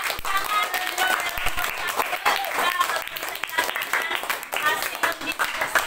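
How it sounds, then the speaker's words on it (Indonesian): Classroom applause from students after a group presentation, a steady patter of many hands clapping at moderate distance, continuous throughout with voices talking underneath. "kita beri tepuk tangan"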